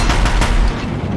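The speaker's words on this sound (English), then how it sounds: "If the Deathbringers keep firing, this bridge will go." Sustained gunfire from Deathbringer machines in the video game Horizon Zero Dawn, a dense, loud barrage of booming shots and rumbling blasts filling the whole moment with no pause.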